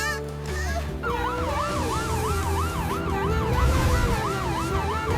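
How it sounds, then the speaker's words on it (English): A close, loud ambulance siren wails in a fast rising-and-falling cycle over vehicle rumble near a beach, with no voices. "We need an ambulance on the beach immediately!"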